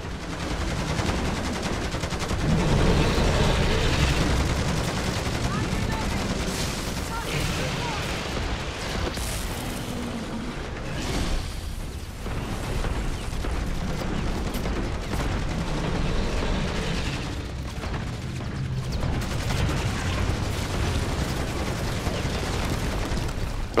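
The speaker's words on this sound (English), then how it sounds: "I have precision airstrikes on me" Dense, sustained explosions and heavy gunfire from precision airstrikes during a Modern Warfare 3 Zombies boss fight against the Red Worm, a continuous loud barrage with rumbling booms throughout, voices talking over it at times.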